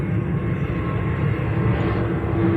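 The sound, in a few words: airplane flying overhead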